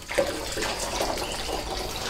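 Spring water runs from a mountain source, a steady splashing gush like a tap filling a basin, close and continuous for the whole two seconds with no talk.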